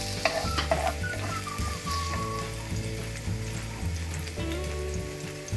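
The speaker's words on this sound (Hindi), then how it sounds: "अब मैं फ्राई पैन में लहसुन शामिल कर दूंगी थोड़ा सा" Finely chopped garlic sizzles steadily in a hot frying pan for an Indian masala baingan dish, a close, continuous crackling fry with occasional stirring scrapes and a faint tonal hum underneath.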